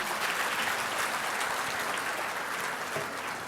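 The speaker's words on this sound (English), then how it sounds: "let us start with a good round of applause for all of you" A full auditorium audience at a semiconductor symposium claps in steady, dense applause that fills the room, loud and continuous with no voices above it.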